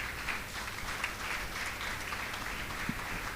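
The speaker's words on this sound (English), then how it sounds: "A round of applause for her again." Audience applause at a national conference after a speech: a soft, continuous patter of clapping heard from a distance, evenly sustained throughout.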